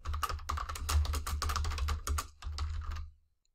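Fast, close typing on a computer keyboard, a dense run of crisp key taps with a brief pause before a final burst, then quiet.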